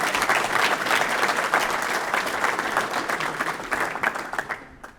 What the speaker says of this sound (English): How about a big round of applause for Dr.